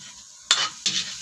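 Chopped garlic dropped into hot margarine and stirred in a pan, two quick bursts of sizzling and scraping over a steady low frying hiss, close and alone.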